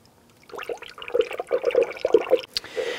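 Antifreeze coolant glugs and trickles as it is poured into the expansion tank of a 2004-2008 Acura TL, a short, close burst of liquid splashing.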